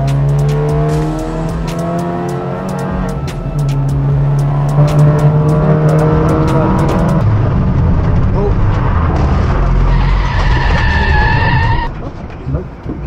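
A Honda Civic Type R race car skids around the Brands Hatch circuit, tires squealing loudly over a revving engine, with the squeal shifting and fading near the end; a voice talks over it.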